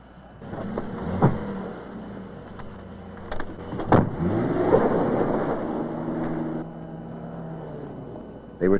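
A car races off with people aboard, its engine and road noise rising and holding steady at close range, with a few brief knocks and bumps and no talk.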